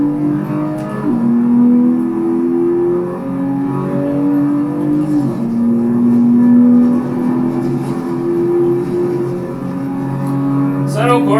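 Porsche Macan Turbo engine in Assetto Corsa on the Nordschleife, droning loud and steady as the revs climb and drop through several gear changes, close and continuous with a sharp burst at the end.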